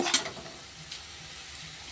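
Already fried potatoes are stirred into sizzling, dry-fried spice masala for a vegetarian dish, giving a quiet, steady sizzle with a few sharp scraping stirs near the start.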